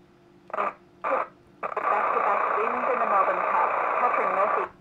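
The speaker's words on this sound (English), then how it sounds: "Makes a funny noise, like a rattling noise." A speaker in a 1964 Scalextric Control Tower gives a harsh, rattling buzz: two short bursts, then a steady, continuous rattle lasting several seconds at moderate loudness.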